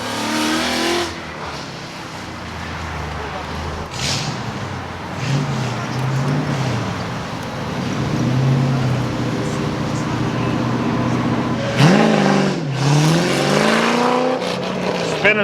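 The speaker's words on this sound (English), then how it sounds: "Spinning the tires and he's off" A street race car at a Ford nationals track event revs hard, spins its tires and launches away, the engine roaring and rising in pitch before surging again, with an announcer talking throughout.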